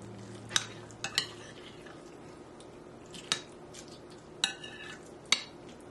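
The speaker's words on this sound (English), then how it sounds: "And again, I'm just going to fold." Crushed fried onions being folded into a string bean casserole with potato chunks: a quiet bed of soft stirring under several sharp clinks and scrapes of a utensil against the dish, spaced irregularly, close and fairly faint.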